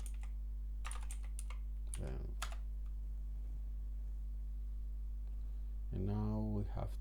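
Typing commands on a computer keyboard: scattered, close-miked key clicks in short clusters over a steady low hum, with someone talking at moments.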